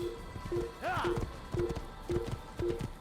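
A horse gallops in the Assassin's Creed video game, its hooves striking in a quick, regular clip-clop rhythm with a whinny partway through, close and steady over a faint game background.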